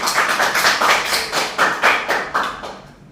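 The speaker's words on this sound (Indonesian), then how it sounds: "Beri tepuk tangan kepada Mbak Tata." A classroom of students gives a short round of applause, with loud, rhythmic clapping in even bursts close by that fades out at the end.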